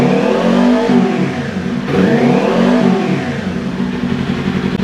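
A 2022 Kawasaki Ninja 400 fitted with an SC Project slip-on exhaust, revved hard and close at about 6,000 RPM, with two loud swelling rev cycles that rise and fall, and a rough, throaty idle between them.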